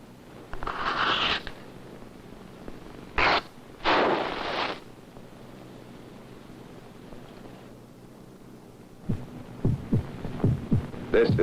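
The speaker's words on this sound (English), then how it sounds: "This is the sound of heart." A human heartbeat plays as a few low, throbbing thumps at the start, then goes quiet, and returns as a steadier run of pulses near the end. No one speaks.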